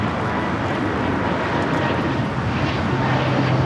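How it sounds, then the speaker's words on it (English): A Breeze Airways Airbus A220-300 jet takes off from LAX, a loud, continuous engine roar with broad rumble and hiss that holds steady throughout, with no voices. "535 taking off to Richmond, Virginia on the A220-300."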